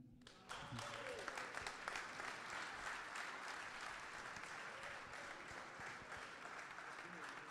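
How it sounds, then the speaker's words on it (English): Sustained audience applause after a spoken-word poetry performance at an annual event, a steady dense wash of clapping lasting several seconds with some speech mixed in. "Give them a round of applause again."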